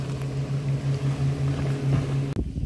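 A motorboat engine hums steadily nearby on a lake with a pulsing low drone, then cuts off abruptly near the end.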